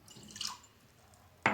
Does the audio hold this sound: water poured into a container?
yes